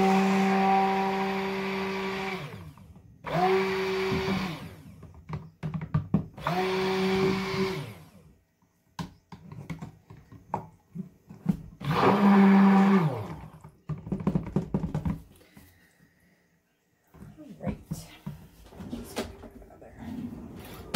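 Kitchen blender mixing blackberry vanilla soap batter, whirring in several loud bursts of a few seconds each separated by pauses, with clattering handling noises in between.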